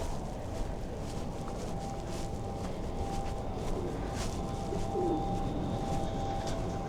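Pigeons cooing in Bath, England, low, soft coos blended into a constant wash of outdoor street noise, faint and partly buried under the background hum.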